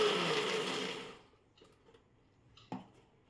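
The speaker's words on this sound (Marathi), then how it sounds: "मिक्सर लावून घेऊया आपण." A kitchen mixer grinder whirs loudly for about a second while blending a taro leaf paste with spices and water, then cuts off into near silence broken by a few small clicks and a sharp clack.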